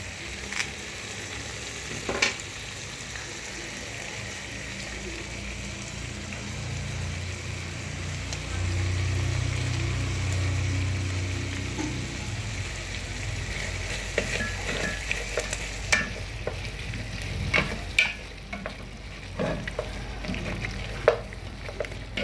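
Tomato paste is stirred into stew broth in a pot, with a quiet simmering sizzle, a low rumble midway and scattered spoon scrapes and clinks close by.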